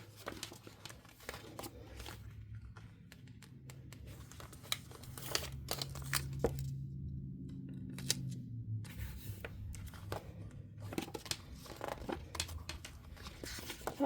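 Sticker sheets being peeled and handled while laying out a weekly planner, a steady run of close, crisp crinkling and tearing rustles with brief sharp peels, continuing without speech.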